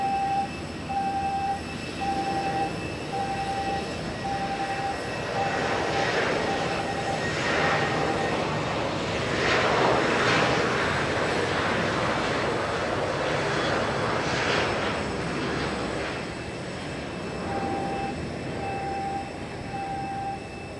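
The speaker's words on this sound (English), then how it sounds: "let you listen to the glory of these engines taking off" A loud, sustained roar of jet engines on takeoff at Nagasaki Airport builds and swells over about twenty seconds, with a steady tonal whine running beneath the broadband rumble.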